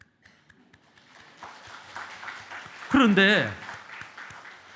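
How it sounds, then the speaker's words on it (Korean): Applause swells from a church congregation during a Sunday sermon, clapping building gradually under the room's ambience before a voice speaks briefly over it. "그들의 수고와 헌신에 우리는 박수를 보내야 됩니다."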